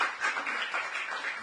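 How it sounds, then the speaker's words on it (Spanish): A church congregation applauding, steady clapping from many hands heard close and alone for a short moment. "Dale bien fuerte ese aplauso a nuestro Dios, iglesia."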